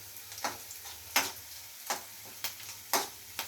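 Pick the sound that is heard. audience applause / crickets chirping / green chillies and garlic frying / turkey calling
green chillies and garlic frying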